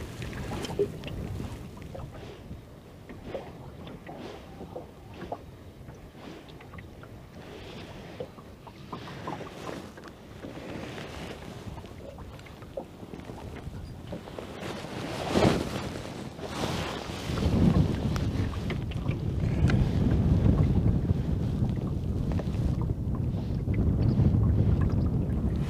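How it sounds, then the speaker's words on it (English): Gusting wind by the water during lure fishing for perch and trout, a steady broadband rush buffeting the microphone that swells and grows louder toward the end, with no talk. "Wind's getting stronger now, isn't it? Yeah, it's picking up a bit now."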